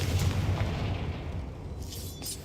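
Confringo fire spell explosion in Hogwarts Legacy, a booming blast that rumbles and fades over a couple of seconds, with a brief crackle near the end.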